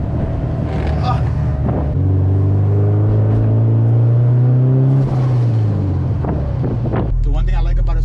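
A boosted Honda Civic engine with a welded wastegate dump revs up strongly, holds a loud, rising whine for a few seconds, then drops back to idle, with wind buffeting the microphone.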